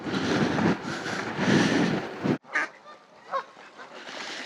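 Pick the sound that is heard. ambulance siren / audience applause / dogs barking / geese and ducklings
geese and ducklings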